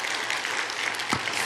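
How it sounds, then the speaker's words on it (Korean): A congregation at a Friday evening church worship gathering claps steadily, a dense, even burst of applause that fills the whole short stretch at close range with no voices over it. "이때도 박수 한번 주셔야 돼요."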